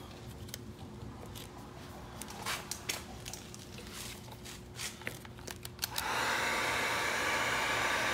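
A heat gun warms vinyl tint on a 2015+ Dodge Charger tail light, first with faint taps and handling of the vinyl, then switching on to a loud, steady blowing hiss for the last couple of seconds.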